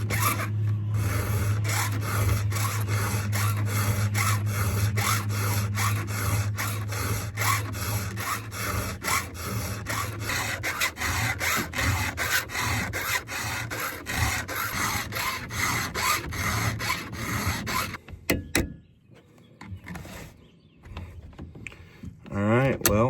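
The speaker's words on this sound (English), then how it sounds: "I generally like to stay level during the duration of the filing" A saw chain being hand-filed before cutting down a dead ash tree gives a steady, close rasping that runs for most of the stretch over a low tonal hum, then breaks off into quieter scattered handling noises.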